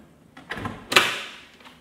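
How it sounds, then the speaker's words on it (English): Metal door of a Tesla Wall Connector electrical panel being pulled off, a couple of soft scraping clunks followed by a sharper clack that rings out briefly, close and alone. "And we'll take the door off."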